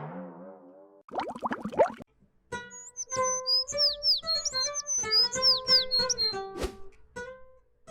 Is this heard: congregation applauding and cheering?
no